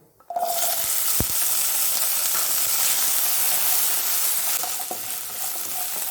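Shallots dropped into hot oil with cumin in a kadai burst into a loud, close, continuous sizzle that starts abruptly and holds steady, with faint stirring clicks.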